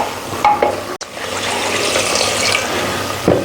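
Minced meat mixture stirred in a pot, a continuous wet scraping and sizzling churn with a couple of sharper clinks of the spoon against the pot, close and fairly loud.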